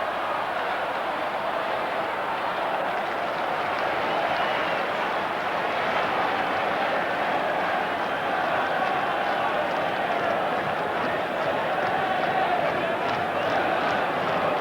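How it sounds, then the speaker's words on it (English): Southampton fans cheer during a 1982 football match against Liverpool, producing a steady, dense crowd roar that holds at an even level for the whole stretch without clear peaks. "Southampton fans making their appreciation heard."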